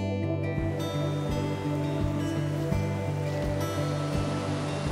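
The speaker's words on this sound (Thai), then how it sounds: "มีลำธารนะฮะน้ำใสปิ๊งใสมาก" A clear forest stream in a cool, tall-tree mountain woodland near Whistler, Canada, rushes steadily and close, with a constant broadband wash of water and no voices.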